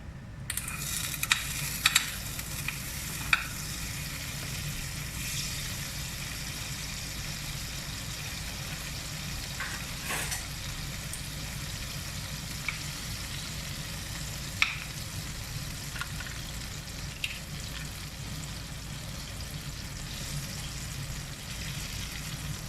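Olive margarine heats in a pan with a steady, low sizzle that runs throughout, broken by occasional small pops and crackles.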